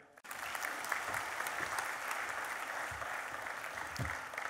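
Audience applause fills a hall at a book launch for a pictorial biography of Praful Patel. It starts right after a brief pause and continues as a dense, even roar of clapping for about four seconds.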